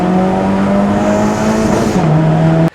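Loud, sustained engine drone of a Honda CR-Z with an HPD aftermarket exhaust, held steady then dropping in pitch near the end before cutting off abruptly; no talking.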